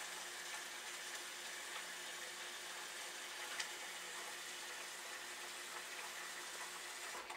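Tap water runs steadily into a pot being filled with about two quarts for pressure canning, a continuous close rushing hiss with no talk over it.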